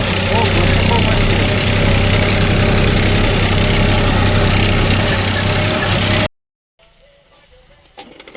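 Tractor engine running loud and close with a steady idling drone on a farm field, cutting off abruptly near the end, after which only faint background sounds remain.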